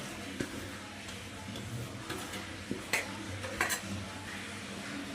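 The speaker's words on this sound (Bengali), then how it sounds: "এর সাথে মোচাটা মিশিয়ে দেবো" Boiled banana flower being mixed by hand into ground lentil paste in a bowl, with soft, irregular squelching and stirring sounds and a few sharper clicks, fairly close and steady with no talk.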